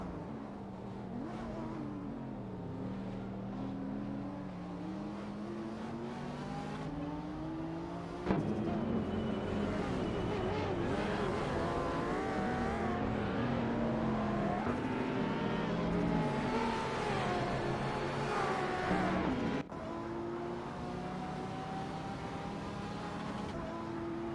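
Supercars in the AI Racing Simulator video game at Long Beach roar past in overlapping engine notes that rise and fall through gear changes, a steady loud racing drone with no talk.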